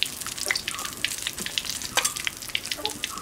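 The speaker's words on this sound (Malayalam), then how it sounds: "ഇനി നമുക്ക് ഒരു ഡ്രിപ്പ് കൂടി മാവിന് ഊറ്റി പൊരിക്കണം" Hot oil hisses and crackles steadily as batter-dipped ammayi kuntham snacks fry, with close, bright popping bubbles throughout.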